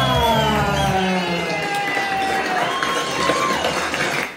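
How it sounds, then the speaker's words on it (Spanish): Crowd applause and cheering in a studio audience at a comedy show, welcoming a costumed mascot, a continuous wash of clapping mixed with bright music tones and a loud start that tapers slightly. "recibimos con un fuerte aplauso a"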